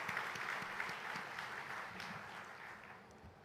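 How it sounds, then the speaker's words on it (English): Steady applause from a conference main-stage audience, a dense patter of clapping that holds for a few seconds and slowly fades. "Please give a round of applause."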